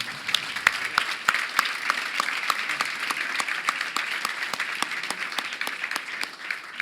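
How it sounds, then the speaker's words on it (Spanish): Audience applause at a conference on AI and society, a sustained wash of many hands clapping steadily and fairly close, with no voices over it. "No la quieren aplaudir a Flor por lo que dijo"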